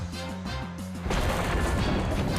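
Super Zap Cannon attack effect in the Pokémon TCG Live video game: a stuttering electronic buzz that gives way to a loud, dense booming blast that fills the rest of the sound, with no talk.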